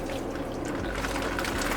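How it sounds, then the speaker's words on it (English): A plant in a grow tent being watered slowly by hand, a steady soft pour and trickle of water into potting soil, continuous and close, with no talking. "So let's just go ahead and water her nice and slow."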